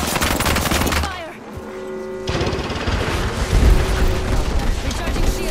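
Rapid automatic gunfire and bursts from the Apex Legends video game, loud and dense, with a short lull and a held electronic tone before shooting resumes; voices talk over the action.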